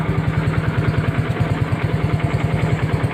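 A motorcycle engine idles steadily nearby, a loud, even putter with a regular rhythmic throb and no talking.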